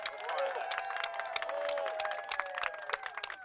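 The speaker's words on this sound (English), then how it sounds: "Let's give a round of applause to everyone." An audience claps and cheers at a patients-before-profits event, dense scattered clapping with overlapping voices and shouts in a large room, moderately loud and continuous throughout.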